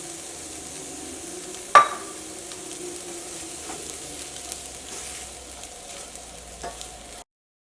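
Semolina roasting in a pan, with soft dry stirring and a faint sizzle, plus a single sharp clink early on before the scraping continues quietly.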